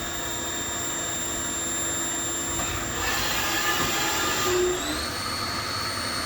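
A Haas VF3 vertical machining center's spindle whines steadily at top speed, a sustained high tonal drone that swells briefly and then steps up in pitch, heard close with no talk.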